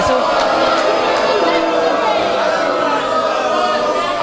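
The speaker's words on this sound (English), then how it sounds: "the crowd's booing him" Large arena crowd at an independent wrestling match booing a 280-pound heavyweight, a dense continuous roar of many voices filling the whole stretch, steady and loud without a break.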